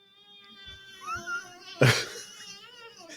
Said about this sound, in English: Sounds like you have a dying cat somewhere in your office